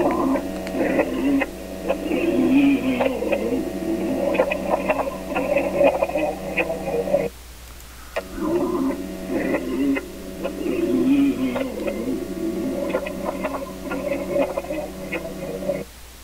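A record said to carry a signal from the comet Elenin, played sped up from 33 to 45 RPM, gives steady droning, warbling tones with faint crackle. It runs continuously, breaks off briefly near the middle, then resumes, with no talk over it.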